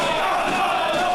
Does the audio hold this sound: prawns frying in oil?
no